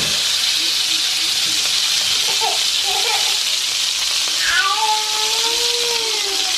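Keto smash burgers frying on a hot griddle give a steady, loud broadband sizzle and hiss throughout, with brief tonal squeaks and whistles cutting through midway.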